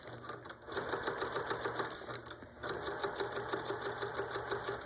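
A sewing machine stitches along a zipper in rapid, even bursts of needle clatter, pausing briefly twice, loud and close with no talking over it.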